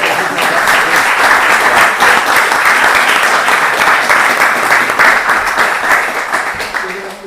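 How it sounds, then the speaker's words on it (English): Sustained audience applause at an event, dense steady clapping holding loud for several seconds before tapering slightly at the end. "how about a round of applause for"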